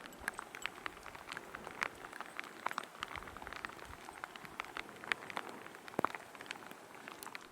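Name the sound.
heavy rain falling on a Hells Canyon trail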